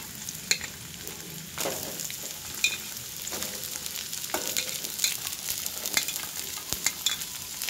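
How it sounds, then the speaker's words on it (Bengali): Dalia upma with vegetables being stirred in a frying pan, a soft steady sizzle broken by repeated spoon scrapes and clinks against the pan, with no talking. "একটু নাড়াচাড়া করব। সবজিগুলো দিয়ে দেবো।"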